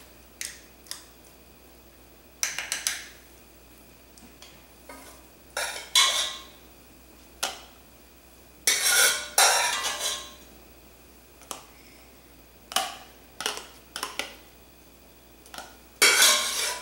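Ground beef spooned into glass canning jars for pressure canning: sporadic clinks and scrapes of a utensil against glass, irregular and close, with quiet gaps between.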